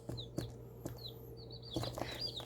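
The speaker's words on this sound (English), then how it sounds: "I always call the chicks Pony's birds" Baby chicks chirp in short, high, thin peeps, several scattered calls over a quiet indoor background, soft and fairly close.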